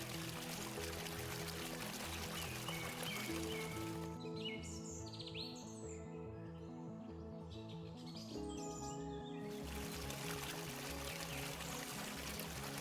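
A waterfall spills over granite slabs in New Hampshire's White Mountains, giving a faint, steady pouring wash, and birds chirp through a brief lull near the middle.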